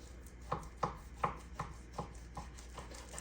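A knife slices a Costco chuck roll into steaks about 5/8 inch thick, each stroke landing as a crisp thud on the cutting board in a steady, evenly spaced rhythm of about eight cuts, close up, with no talking.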